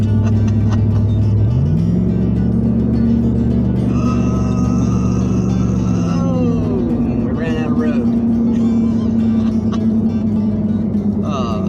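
A car rolls over a rough, crumbling old bridge on a rural road, the engine note rising early then holding a steady hum beneath rattling and road rumble; someone talks over it.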